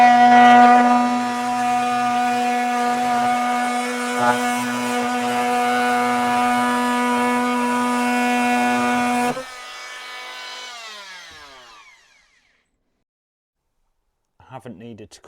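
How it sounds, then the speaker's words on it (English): An oscillating multi-tool cuts a trim panel inside a VW Crafter camper van, making a loud, steady buzzing drone for about nine seconds before winding down into silence. "I'll now use a multi-tool to gradually cut that away."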